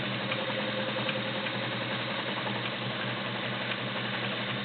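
A vintage Kenmore 84 heavy-duty sewing machine sews a zigzag stitch, a steady close mechanical whir with a fast, even rhythmic clatter and no voices.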